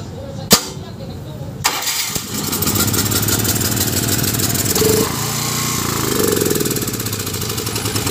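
A small gasoline generator with a starting fault is yanked with a sharp pull, catches and runs loudly and roughly up close, its note wavering before it stalls.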